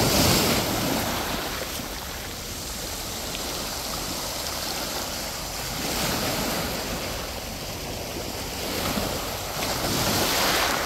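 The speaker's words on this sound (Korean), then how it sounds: "서서히 파도가 세져 옵니다." Ocean waves wash onto a beach at night with wind buffeting the microphone, a broad continuous roar that swells in several surges as the surf builds in strength.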